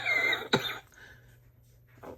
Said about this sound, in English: I've just had this awful cough for a couple months, and I have not been able to get rid of it totally.